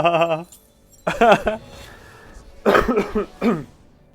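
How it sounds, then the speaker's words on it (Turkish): Several harsh, raspy coughs from a person still sick come in short bursts separated by brief pauses, close and fairly loud, with some voiced throat sounds between them. "Arada öksürüyorum ister istemez hala hasta olduğum için"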